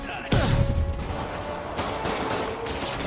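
Rapid bursts of gunfire in the Spider-Man PS4 video game, loud and dense with crashing impacts over a steady game soundtrack, with a voice shouting at times.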